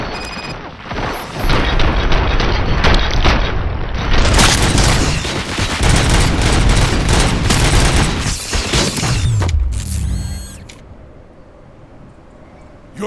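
Dense, loud gunfire from the RoboCop: Rogue City video game, with sustained bursts of automatic shots and booming impacts that run for about nine seconds, then cut off into a quiet tail with faint mechanical sounds.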